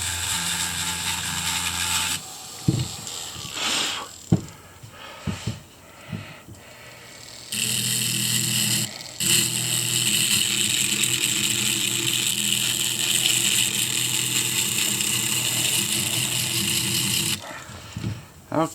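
A rotary tool with a coarse sanding attachment grinds echinoid fossils on a multi-block. A loud, harsh whine runs in short bursts and then one long steady stretch, with a dog barking briefly between the runs.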